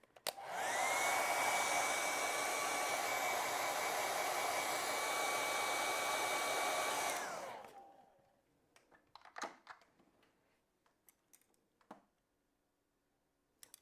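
A hair dryer blows a steady, loud whir for about seven seconds while drying thin acrylic paint, then shuts off and winds down, leaving scattered small clicks and taps.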